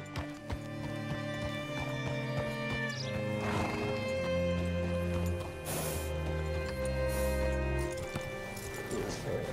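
A horse in the Red Dead Redemption 2 game, hooves clip-clopping with loud snorting and whinnying calls, plus a low rumble and game music.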